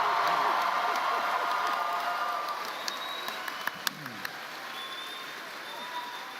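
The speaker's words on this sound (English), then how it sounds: "One more time, give yourselves a round of applause." Audience at a Critical Role panel at San Diego Comic-Con gives a sustained round of applause with cheering, steady and broad at first, thinning out toward the end.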